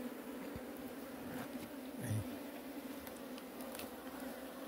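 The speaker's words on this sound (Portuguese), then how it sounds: "as que estão voando aqui, não é do enxame aqui, é de fora." Bees fly around freshly cut honeycomb outdoors, drawn in from outside the hive to feed on the honey. A steady, faint buzzing hum carries throughout, with individual insects passing close now and then.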